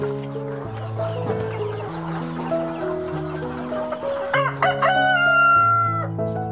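A loud rooster crows nearby while hens cluck steadily around it, a busy close-up chorus in a 2x2 coop of free-range village chickens on a farm.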